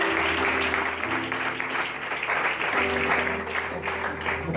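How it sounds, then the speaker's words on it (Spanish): A church congregation applauds in a continuous, moderately loud patter of clapping, mixed with a low sustained tonal hum from music or an organ underneath. "Vamos a darle un aplauso a Él."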